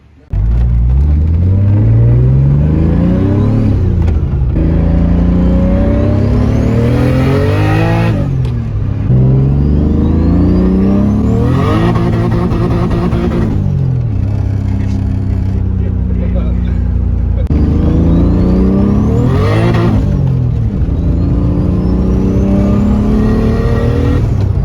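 A turbocharged BMW E30 with an M52 swap and a full stainless 3-inch exhaust drives close by, its engine revving and rising through the gears in loud repeated pulls with brief lifts between them.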